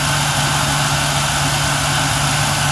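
A Chevrolet Suburban with an LS truck engine idles steadily, a loud, continuous low rumble with an even hum and no other sounds over it.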